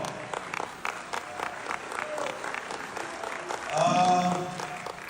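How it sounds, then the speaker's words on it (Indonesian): Applause from an audience at an Indonesian political stage event featuring Rocky Gerung and Adian Napitupulu, a moderate broadband patter that swells louder near the end while cheering voices rise through it. "Kita tepuk lagi dong."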